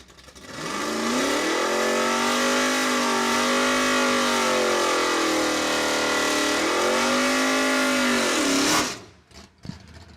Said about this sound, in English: That is the 1974 Plymouth Duster known as Stolen Dignity.